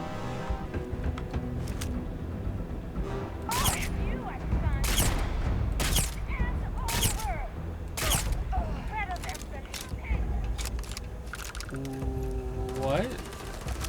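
A sci-fi gun in Starfield fires a run of separate sharp shots at an uneven pace, with talk continuing over the game's background sound.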